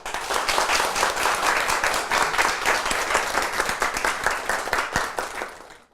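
An audience at a Korean talk concert gives warm, sustained applause for a baritone, a thick crowd of clapping with sharper individual claps standing out, tapering off at the very end.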